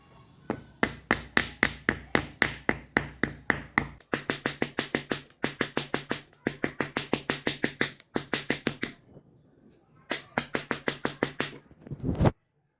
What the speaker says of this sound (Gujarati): હવે આને આ સીલ ઊભા છે તેને હથોડીથી આપણે મટાડશું